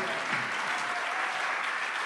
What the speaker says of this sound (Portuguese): Como a gente precisava desses aplausos.